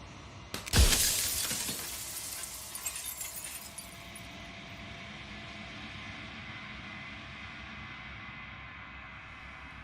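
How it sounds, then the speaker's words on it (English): A mirror shatters in the video game Slay the Princess, with a loud sudden crash and bright glass fragments tinkling and scattering for a few seconds before fading into a steady low ambient drone. "here, the mirror shatters"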